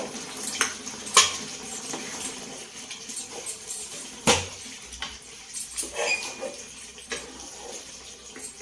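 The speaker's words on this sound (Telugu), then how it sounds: "కాయ అట్లా చిదిరిపోకుండా కలుపుకుందాము" A spoon stirs stuffed eggplant curry in a pan with masala gravy, making soft scrapes and scattered metallic clinks in an irregular rhythm, close and fairly quiet with no talking.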